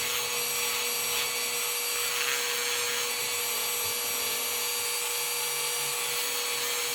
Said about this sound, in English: Basically gonna just sand these off of there.